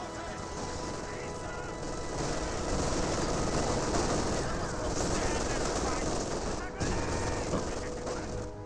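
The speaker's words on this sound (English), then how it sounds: "This one is currently pinned by the MG42." An MG42 machine gun fires in a World War II strategy video game amid a dense, continuous battle din of overlapping gunfire and rumbling, loud and unbroken for the whole stretch.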